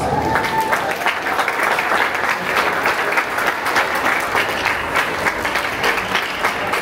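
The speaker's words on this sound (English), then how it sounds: "let's give them all another big round of applause." A loud, dense round of audience applause fills a hall at a school recognition day ceremony, with many hands clapping steadily from start to finish.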